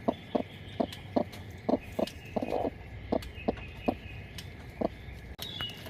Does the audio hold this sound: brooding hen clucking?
yes